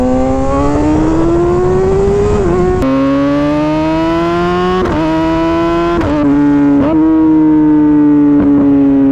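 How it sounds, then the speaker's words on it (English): Kawasaki ZX-6R motorcycle, loud and close, accelerating hard through several gear changes, engine note climbing steadily then dropping briefly at each shift, with no talking. "I wish you could hear the magnitude of how loud this bike actually is right now."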